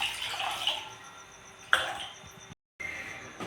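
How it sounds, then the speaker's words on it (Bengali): Water is poured into a pan set on the stove for a Rajasthani curry, a splashing pour with a sharp burst partway through, then a short silence and a quieter trickle. "আমি জল দিয়ে দিলাম এখানে।"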